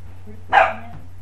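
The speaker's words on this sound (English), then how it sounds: "And he barks." A dog gives a single short, sharp bark, close and moderately loud, rising out of quiet with a faint low hum underneath.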